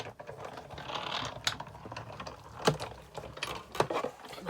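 A Big Shot die-cutting machine cranks well-used plates through for card bleaching, giving a series of ratcheting clicks and plastic clacks with short pauses between, close up and moderately quiet, no voices.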